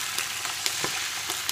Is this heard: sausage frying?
yes